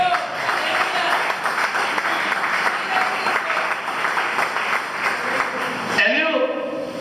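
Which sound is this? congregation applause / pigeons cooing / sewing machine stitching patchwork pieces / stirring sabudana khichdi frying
congregation applause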